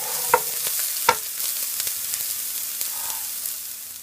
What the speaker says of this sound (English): now I'm gonna add some ginger and some garlic